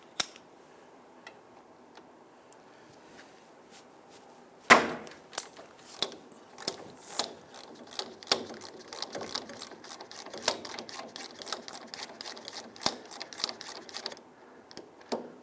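A wrench works on a brake caliper bolt of a 2000-2006 Toyota Tundra, first faint, then a sharp crack as the bolt breaks free, followed by a long run of close, rapid ratcheting clicks that stop near the end.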